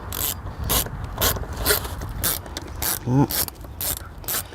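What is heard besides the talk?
screwing air filter housing screws back in on Dodge Charger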